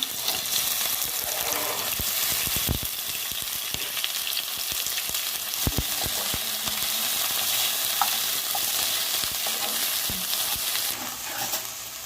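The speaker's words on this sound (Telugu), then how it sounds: "పల్లీలు వేగినాయండి ఇప్పుడు బెండకాయ ముక్కలు వేస్తున్నాము" Okra pieces and peanuts fry in hot oil with a loud, steady sizzle that runs the whole time, broken by sharp spatula taps and scrapes against the pan.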